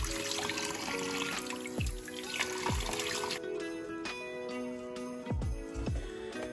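Tap water runs steadily into a sink while someone rinses their face, a close, continuous stream that stops about halfway through, with a few low clunks and knocks around it.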